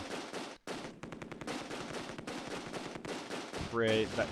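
Heavy 88 mm gun fire in the Close Combat II WWII battle game, dense sustained gunfire and booming shots crackling continuously over a few seconds, with a short gap, a pause, and a loud final burst.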